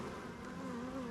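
Carnica honey bees at an open hive give a steady, continuous buzzing hum, a dense drone of many wings close by with no pauses.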